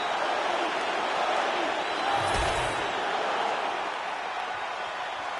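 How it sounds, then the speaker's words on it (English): Dense crowd roar fills the arena after a fight round ends with a fighter caught in a submission at the horn, sustained and loud throughout with a brief thump near the middle. "This crowd is going sick after what they saw in that previous round."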